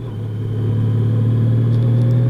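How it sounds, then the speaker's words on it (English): A 2018 Honda Goldwing touring motorcycle's engine hums steadily while riding on winding coastal roads near Ettalong Beach, a loud, smooth low drone that swells slightly early on and then holds even, with no talk. "yeah, it's a motorbike."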